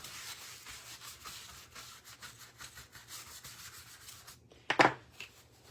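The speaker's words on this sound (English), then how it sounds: "Let me just throw some wax on it instead of sanding it down." Wax rubbed by hand onto a painted wooden craft pumpkin, a steady soft scrubbing friction lasting several seconds, close and quiet, ending in a brief louder scuff.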